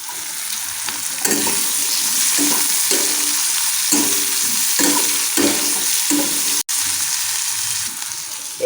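Onion and a little green chili frying in hot oil in a pan, a continuous bright sizzle broken by repeated stirring scrapes at a steady rhythm.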